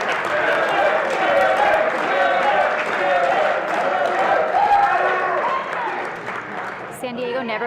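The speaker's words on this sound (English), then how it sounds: "San Diego never fails to have the loudest group cheering them on." San Diego supporters at a combat tournament final roar and cheer loudly and steadily, a dense crowd din with clapping mixed in, easing off slightly near the end.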